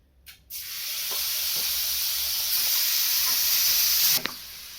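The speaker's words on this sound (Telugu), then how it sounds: "పన్నీర్ అండి రోస్ట్ అవుతుందండి, చూడండి" Marinated paneer roasting in a hot pan on a stove gives a steady, loud sizzle and hiss that starts abruptly and holds, with a few soft clinks of stirring.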